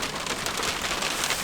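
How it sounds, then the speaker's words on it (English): Heavy rain falls on a car, a dense, steady hiss of drops drumming on the roof and body, close and unbroken, with no voices. "Actually, now it's raining"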